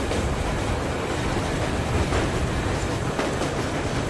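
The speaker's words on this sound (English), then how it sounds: "Stop this party train." Train rolling on rails in Metro Exodus, a steady low rumble with faint rhythmic clickety-clack from the wheels, even and continuous at moderate volume with no voices.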